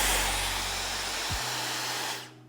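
A hair dryer blasts a loud, steady rush of air while blow-drying curly hair on a round brush, then switches to a lower setting briefly before cutting off.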